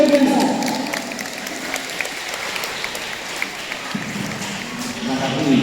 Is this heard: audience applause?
yes